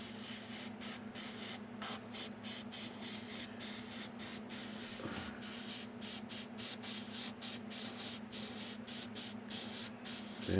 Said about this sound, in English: I'm gonna gently spray and see where it goes.